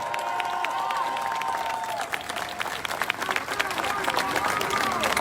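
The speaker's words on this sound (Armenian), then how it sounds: "Եկեք բարձր ծափարենք մեր զինվորների համար, մեր հերոսների համար" At an Armenian street rally in Washington, a crowd applauds and cheers with steady clapping and rising shouts while voices talk over the noise.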